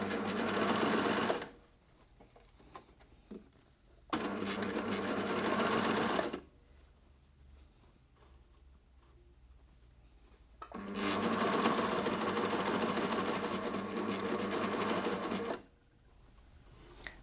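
A coverstitch machine shirring fabric with elastic runs in three bursts of rapid, even needle chatter, each lasting a few seconds with quiet pauses between, close and without talk.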